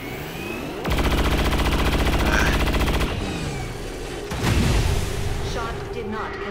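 Rapid automatic gunfire from XCOM 2 rattles in a sustained loud burst, followed by a heavier boom and rumbling battle effects, with game voices and ambient sound around it.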